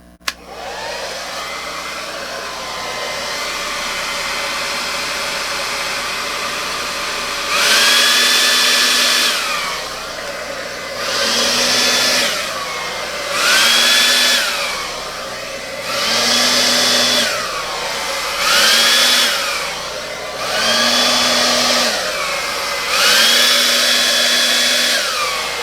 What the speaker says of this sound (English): I'm going to start the dryer and get this blown out.